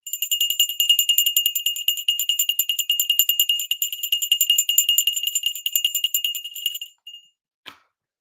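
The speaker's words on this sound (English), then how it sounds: "Hopefully that bell helped you wake up." The stock market opening bell rings loudly and continuously with rapid metallic strikes for about seven seconds, then cuts off, leaving a brief final ding and silence.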